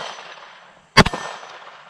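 A single sharp impact rings out as a rifle round strikes an MGM steel gong target at a shooting range, a sudden loud crack followed by a brief decaying ring over a steady background hiss.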